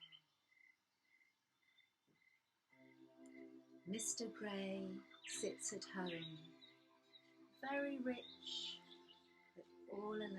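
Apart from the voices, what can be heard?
birds singing in story background music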